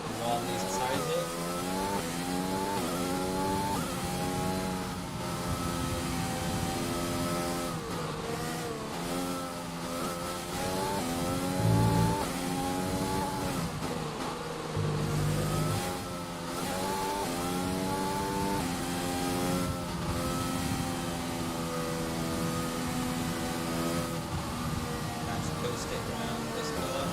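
Formula 1 race car engine from F1 2020, revving and rising in pitch as it warms tyres on a qualifying lap, steady and loud throughout, with a voice talking over it.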